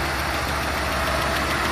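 Steady idle from an Audi A3 1.8 20v engine with an intermittent hydraulic lifter problem, a continuous loud mechanical hum layered with quick rhythmic tapping.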